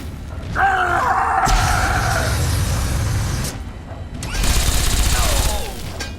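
Gunfire rattles in Fallout 3 in dense, loud bursts that come in two main stretches separated by a quieter gap, mixed with tonal game effects.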